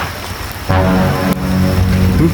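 Steady rain falls loud and close, with a broad hiss that thickens suddenly partway through and keeps pouring without a break.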